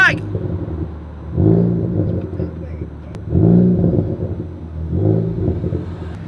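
A Ford Focus ST with an excessive crackle tune gives three separate rumbling exhaust revs, each swelling and fading, heard from inside the car; a voice shouts at the start.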